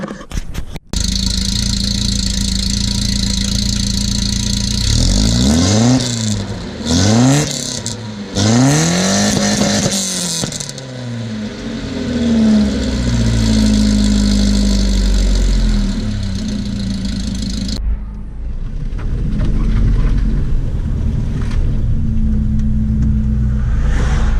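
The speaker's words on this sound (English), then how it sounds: "So like idle sound and the rev sound might change a little bit" A car engine revs sharply several times over a steady idle, then settles back into a low, rumbling idle; loud and close.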